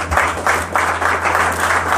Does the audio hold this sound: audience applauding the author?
yes